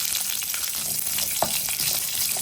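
Dried red chillies and small onions frying in a pan, a soft continuous sizzle and crackle with occasional stirring scrapes, fairly quiet and close, with no talking.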